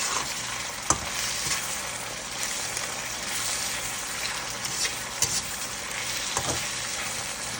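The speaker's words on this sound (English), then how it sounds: "And while this is sauteing a bit" Cabbage, carrots and okra, chopped very small, sizzle steadily in a pan, with a dense continuous fry broken by a few sharp stirring clatters of a utensil, close and fairly loud with no voices.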